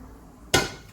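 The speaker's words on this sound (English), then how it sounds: "frying pan" A metal frying pan set down or knocked in a home kitchen, one sharp clanging hit with a short ringing decay after a quiet moment.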